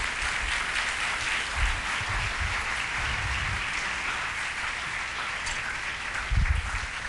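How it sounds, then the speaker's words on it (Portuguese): A church congregation applauds in a steady, dense wash of clapping that holds at an even level for several seconds, sounding a little distant and filling the room. "vamos dar um aplauso ao Senhor."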